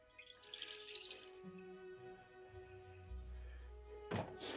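Tap water running into a saucepan in a home kitchen while making pork pie pastry, a quiet steady flow whose tone shifts as the pan fills, with a brief clatter near the end.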